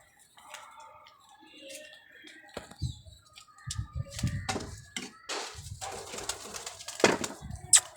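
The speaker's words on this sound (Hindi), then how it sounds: "ये देखें, बड़े कबूतर।" Pigeons on a rooftop coo in soft, low throaty bursts amid fluttering and scattered chirps, fairly close, with light background noise and occasional voices.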